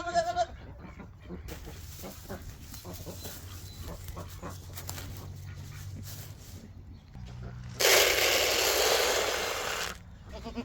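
Goats bleat nearby, with a sharp cry at the start and a loud, breathy bleat near the end, amid panting and shuffling in between.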